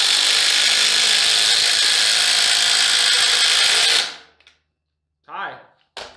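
Dewalt and Ryobi power tools run side by side on high in a loud, steady drilling whine for about four seconds, then cut off abruptly, followed by near silence and two short bursts of voice.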